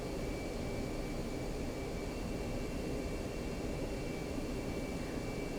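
Jet aircraft engines idling in the DCS World flight simulator, a steady broadband roar with a thin high whine held at even loudness throughout, no voices over it.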